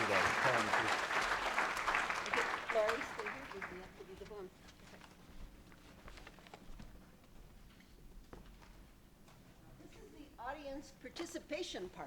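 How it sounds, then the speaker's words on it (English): Applause from a lecture audience fills the opening seconds loudly, then fades under a speaking voice, with scattered claps returning near the end. "Another round of applause"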